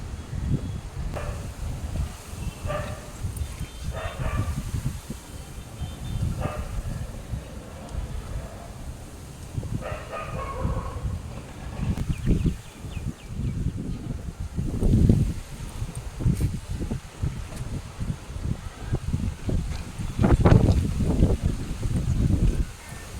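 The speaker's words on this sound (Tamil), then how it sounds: "புயல் காற்று வீசுதா பார்த்தீங்களா?" Strong storm wind gusts through trees around a home, a rough, surging roar of rustling leaves and buffeting that swells and fades in waves over several seconds, with no speech.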